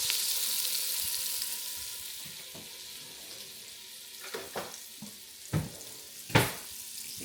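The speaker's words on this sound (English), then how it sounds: "let's go ahead and add that 4 tablespoons of butter and let it melt in there." Butter melts in a hot Dutch pot with a steady, bright sizzle, while a few sharp utensil clinks and scrapes sound close by toward the end.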